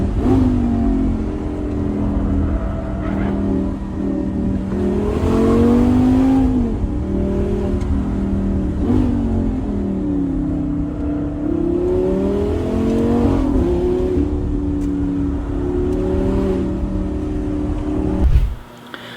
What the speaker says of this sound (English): you can hear the shearing or like the carving of the rubber harder than the exhaust